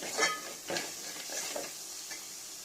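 Grated raw mango with turmeric and salt being stirred in a frying pan, a steady close sizzle broken by scraping stirs, alone with no voices.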